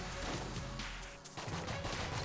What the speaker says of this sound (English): It's just random shots.